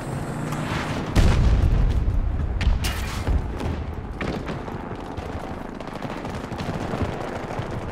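Sustained automatic gunfire and heavy booms from a large-scale battle in the shooter game Battlefield 2042, a dense loud barrage with a sharp burst around the second mark, continuing without pause.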